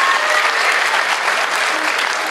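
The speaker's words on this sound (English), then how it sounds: "I just want to give the band a round of applause." An audience at a senior honors night gives the band steady, dense applause that stays loud and even throughout, with no voices over it.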